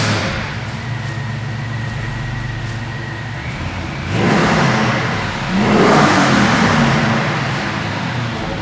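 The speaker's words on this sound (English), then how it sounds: "Today we're checking out a beautiful 1968 Camaro Resto Mod." A 1968 Camaro resto-mod idles with a steady rumble, then its engine revs up twice in strong, close bursts before settling back toward idle.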